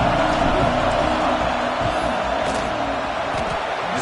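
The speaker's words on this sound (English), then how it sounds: "This crowd trying to do its part to get inside the kicker's head." Stadium crowd roaring steadily as a field goal team lines up on fourth down in College Football 26, a dense, continuous wall of noise filling the whole stretch with faint bursts of cheering rising inside it.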